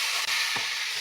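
Onions frying with five-spice in a pan over a clay stove, giving a steady broadband sizzle with one brief stir near the middle, close and continuous, no voices.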